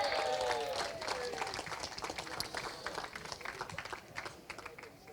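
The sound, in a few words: audience applause for a kart driver at an awards presentation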